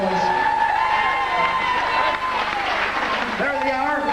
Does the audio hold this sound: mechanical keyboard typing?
no